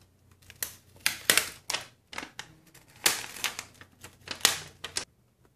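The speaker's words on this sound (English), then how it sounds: "I'll remove all of the keys that are gummed up with Gatorade" Keycaps are pried off a Gatorade-gummed MacBook Pro 13-inch keyboard, making sharp plastic clicks and snaps in close, irregular bursts separated by short pauses.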